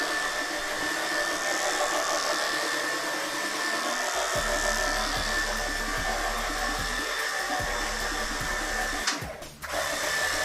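A powered sprayer applies a peroxide-based cleaner to a dirty carpet, giving a continuous motorized whir with a low rhythmic pulsing and a brief scuffing disturbance near the end.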